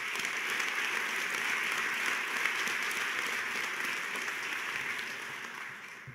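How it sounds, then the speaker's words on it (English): Applause from the audience at a ceremony naming the Pennsylvania Teacher of the Year, a steady, somewhat distant wash of clapping that fades slightly toward the end. "I believe they all deserve a round of applause as well."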